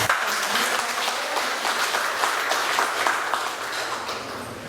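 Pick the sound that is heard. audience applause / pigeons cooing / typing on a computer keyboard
audience applause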